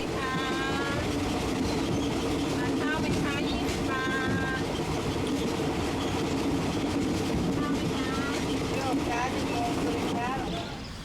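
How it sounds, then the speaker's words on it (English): A passenger train runs on rails in Thailand, giving a steady loud rumble and rattle of cars throughout, with high squeals and chatter-like tones sounding over the continuous rolling noise. "our supposed hour-and-a-half train ride would turn into a 3-hour tour"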